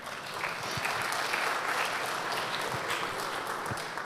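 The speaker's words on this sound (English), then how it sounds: "give yourself a round of applause yourself" Audience applause at a live Q&A panel during a Vue.js conference, a broad even patter of many hands that holds steady for several seconds without a break.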